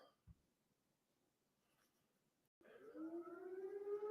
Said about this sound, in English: Did you hear the alarm?